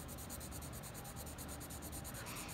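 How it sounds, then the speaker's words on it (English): A pencil is used on its side to shade on paper, giving a steady, faint dry scratching and rubbing that runs continuously at close range with no talk. "Maybe I'm using a little bit more of the side of my pencil."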